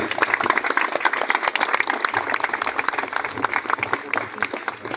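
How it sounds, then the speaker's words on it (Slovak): Crowd of pilgrims clapping at a pilgrimage gathering, brisk sustained applause with many distinct claps, moderately loud and steady throughout. "I would like to hear a big applause to all of you"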